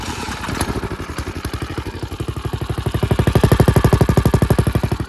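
A custom yard kart engine with its muffler fitted runs alone, a fast steady chain of firing pulses that rises slightly in loudness and pace partway through, close and fairly loud.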